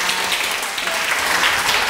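Students in a flower-tea making class applaud their teachers, a full, even burst of clapping that fills the room steadily from start to finish.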